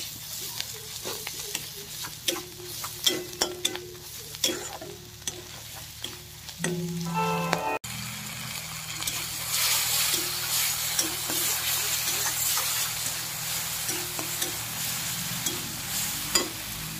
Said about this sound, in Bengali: সর্ষে বাটা দিয়ে দিলাম। এবার এটাকে ভালো করে ভেজে নেব।